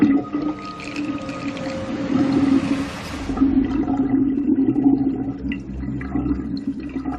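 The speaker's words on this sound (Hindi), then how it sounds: "बेसन में से पानी एक झटके में गरगराता हुआ पाइप से बह गया।" Water from a sink basin gurgles down a drain pipe in a single rush, a wet, hollow, bubbling flow that swells and then keeps churning loudly in the pipe.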